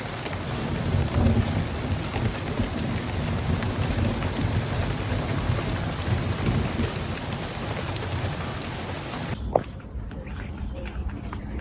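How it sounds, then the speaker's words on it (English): Heavy rain pours down in a garden as a dense, steady hiss with a low patter that runs loudly for about nine seconds, then cuts off abruptly, leaving a quiet background with a faint high chirp. "it rained a lot harder in Justin's mum's garden"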